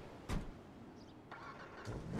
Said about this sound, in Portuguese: deu a partida no carro